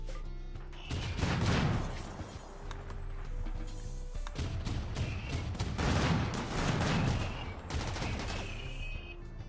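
Game gunfire in RimWorld sounds as dense volleys of shots and impact splatters in two loud bursts with a brief lull between, close and harsh, with no speech.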